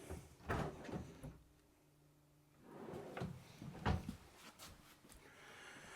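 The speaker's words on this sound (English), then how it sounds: "And then you're going to have 2 of these pull-out drawers as well." RV pull-out drawers slide and bump open and shut several times, soft thuds and scrapes with a short quiet pause in between.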